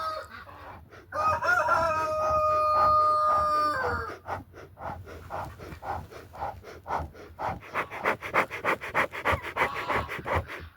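A rooster crows loudly once, followed by a run of rapid, rhythmic clucking and panting-like calls from nearby chickens, no human voices.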